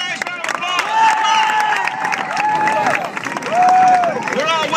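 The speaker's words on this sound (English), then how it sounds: "Come on, people, give him a nice round of applause." An audience at a school awards ceremony claps and cheers for a middle school third-place winner, with a host's amplified voice talking over the crowd noise.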